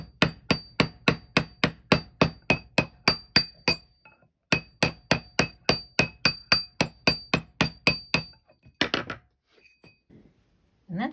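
A hammer strikes a metal washer ring in quick, even, ringing taps, two long bursts of about fifteen blows each with a short pause between, then a few softer handling noises.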